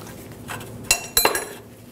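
A 7/8 wrench loosening the oxygen sensor on a 2010–16 Buick LaCrosse, heard as a few sharp metallic clinks and scrapes close by, with two distinct clanks in quick succession and no talking.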